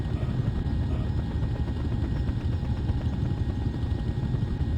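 A video game helicopter flies while slinging a load of logs, a heli-logging scene with a steady, loud rotor and engine drone that throbs evenly throughout.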